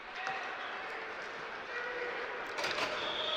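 A referee's whistle sounds at a Rhode Island high school boys ice hockey game, Cumberland against Barrington. A short, shrill blast comes near the end over constant arena crowd noise.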